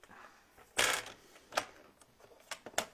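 A paper trimmer slices cardstock in short bursts: one louder scraping cut followed by several quicker, crisp swipes and clicks, close and alone.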